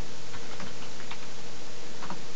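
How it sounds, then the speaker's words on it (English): Keystrokes on a computer keyboard as a date is entered into church management software, a few light, irregular clicks close by with no talking. "So we type the date of last Sunday."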